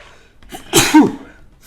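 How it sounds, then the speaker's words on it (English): A single close, loud human sneeze with a quick inhale and burst, alone with no talk during a Star Wars Jedi Knight II gaming session. "we have a sneeze. That's what we have."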